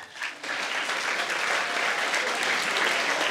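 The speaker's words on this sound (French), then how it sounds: "je vous invite à applaudir vivement" An audience applauds loudly at a school government handover ceremony, a short burst followed by dense, sustained clapping that fills the rest of the moment.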